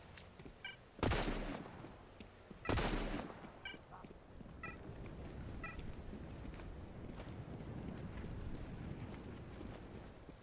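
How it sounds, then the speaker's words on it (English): Two loud gunshots ring out in STALCRAFT: X, followed by fainter distant shots and a low rumbling background. "Is that an enemy shooting or enemy being shot at?"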